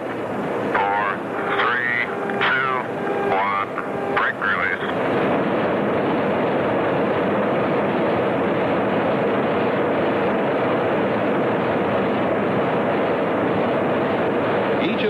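An XB-70 Valkyrie supersonic bomber with General Electric J93 jet engines roars in a loud, sustained broadband rumble, preceded by a brief stretch of narration and tonal sounds before the steady jet noise takes over.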